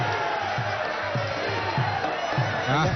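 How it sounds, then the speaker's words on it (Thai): Crowd cheering and rhythmic chanting at a Muay Thai boxing match, moderate and fairly distant, with a commentator talking over it. "เสียงเชียร์ยังพอมีครับ"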